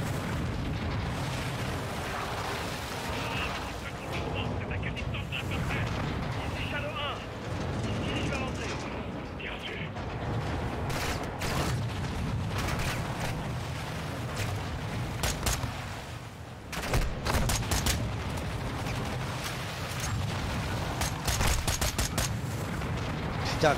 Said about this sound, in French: Putain, il me tire dessus